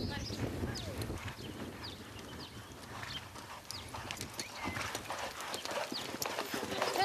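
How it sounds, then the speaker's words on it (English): The hooves of a Lusitano, a Portuguese horse, clip-clop in a steady, continuous rhythm, moderately close, over a low background rumble. "This one's actually a Lusitano. He's a Portuguese horse"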